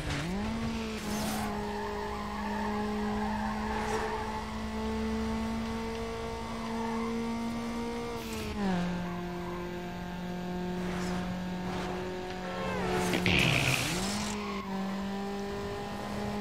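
A car in the video game Need for Speed Underground skids and crashes, with a sustained revving engine drone and drawn-out tire squeal whose pitch dips and recovers several times, a harsh burst marking the impact.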